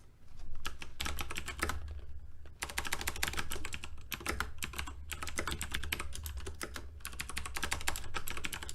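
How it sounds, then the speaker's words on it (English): Steady, rapid keystrokes on a computer keyboard as code is typed, with dense clicking bursts and a couple of brief pauses, close and fairly loud with no talking. "I'm gonna type it in the chat."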